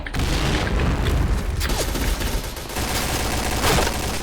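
Gunfire in the video game Point Blank, a dense, continuous barrage of rapid shots and booms from a firefight, loud and sustained throughout without pause.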